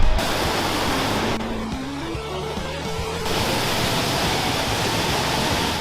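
A waterfall in Scotland roars as a steady, broad rush of falling water, loud and continuous throughout, with a low tonal hum rising in steps underneath partway through.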